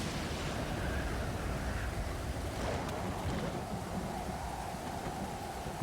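A storm in the survival game Stranded Deep brings steady rain, wind and rolling sea noise around a raft, a dense continuous roar with a low rumble, no voice heard.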